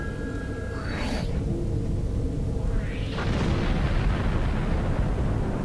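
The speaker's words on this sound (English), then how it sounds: "Absolutely do not want to get too close to that explosion. I'm pretty sure a ship exploding would destroy the shuttlecraft." Starship exploding in the space combat game Star Trek Online: a sustained, loud rumbling blast with a rising roar partway through, continuous and alone.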